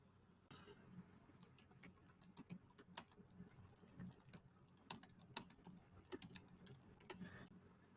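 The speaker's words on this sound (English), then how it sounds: "I will start by typing in a prompt that asks ChatGPT to create 100 short, engaging captions" A prompt tapped out on a computer keyboard in quick, uneven bursts of light key clicks with brief pauses, close but quiet, with no voices.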